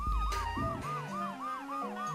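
A wailing siren in the video game Tingle's Rosy Rupeeland, a loud, steady electronic wee-woo that rises and falls in a fast repeating cycle over low game sounds, with no talk.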